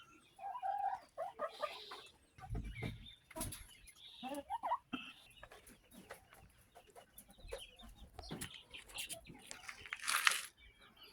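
Chickens cluck and squawk in a farm pen, several birds calling in short irregular bursts, close but fairly quiet, with rustling and a brief voice in the background.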